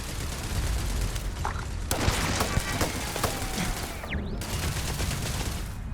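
Turrets fire in the video game Starfield, a dense stream of rapid gunshots and booms that rattles on continuously across the whole stretch, loud and busy.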